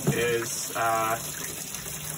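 Tap water runs and splashes while the handle of a paint brush is washed, two short gushing bursts under a man's speech, close and fairly quiet.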